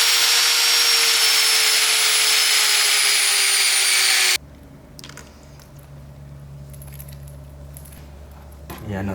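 A cutoff wheel slices through a hose on a turbocharged Nissan Hardbody truck, giving a loud, steady, high-pitched grinding whine for about four seconds that cuts off abruptly, followed by quieter shop noises and handling sounds.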